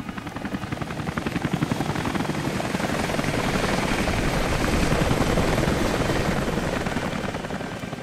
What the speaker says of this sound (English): What do you want, helicopter? Just fly away.